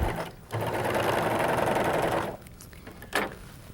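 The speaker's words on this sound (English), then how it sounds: "So just sew straight as can be, and it won't allow you to sew crooked" A Viking Huskylock 1002LCD serger runs in a steady fast whir for about two seconds, then stops, leaving a few faint mechanical clicks and a short thump.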